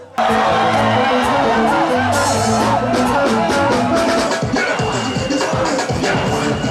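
A crowd cheers and shouts at a Zouglou concert in Côte d'Ivoire, loud and sustained from near the start, with whoops and yells rising over music.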